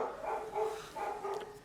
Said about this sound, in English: And now dogs have started barking